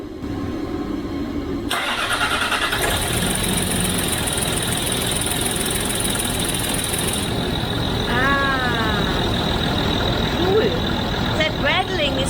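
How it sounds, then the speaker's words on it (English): A Land Rover TDV6 diesel, fresh from timing belt and oil pump work, cranks and catches, then settles into a steady rattling idle while people talk nearby. "So he's gonna start the car now."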